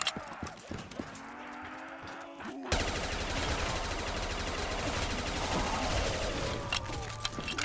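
Rapid gunfire crackles from a weapon in Black Ops custom zombies, sparse shots at first and then a sustained loud burst of automatic fire with clattering effects.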